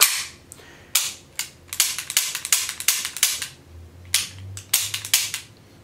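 Repeated dry-fire hammer clicks from an unloaded CZ vz. 82 pistol with repeat strike capability, a dozen or more sharp close metallic snaps at an uneven, fairly quick rhythm, with no talking.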